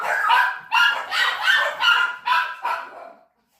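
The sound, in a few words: two dogs barking at a rustling outside the gate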